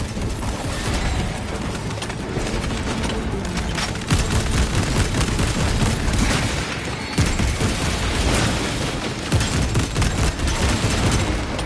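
A Warhammer 40k battle fills with dense, continuous gunfire and booming blasts, a crack grenade among them, loud and chaotic for the whole stretch with several heavier hits standing out.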